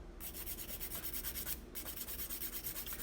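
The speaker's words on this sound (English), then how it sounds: "you're going to do it with the most coarse side of your file" A fingernail being filed with the coarse side of a nail file, heard close up as quiet, rapid, even back-and-forth rasping strokes with one brief pause, and no talking.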